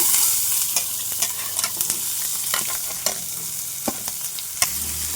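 Chopped onion and green chilies frying in a pan, a steady sizzle with sharp scraping clicks from stirring at irregular intervals, close by and with no talking.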